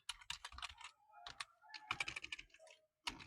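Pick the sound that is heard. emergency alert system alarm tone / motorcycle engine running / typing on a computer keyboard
typing on a computer keyboard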